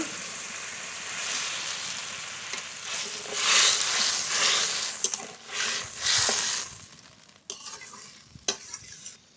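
Water poured into a simmering Bombay duck fish curry in a pan sets off a loud, surging hiss with stirring scrapes, swelling in waves before easing into quieter bubbling and light clinks.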